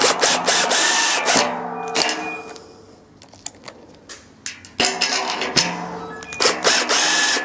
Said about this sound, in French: Il reste trois traverses à fixer